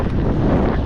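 Strong wind buffets the microphone during an outdoor race, a loud, steady low roar of gusts that fills the whole moment with no voice over it.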